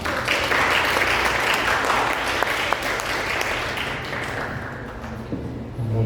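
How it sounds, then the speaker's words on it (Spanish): A lecture audience gives sustained applause to welcome a chemistry speaker, a dense steady clapping that carries on for several seconds and slowly thins toward the end, with faint voices underneath. "un fuerte aplauso para él."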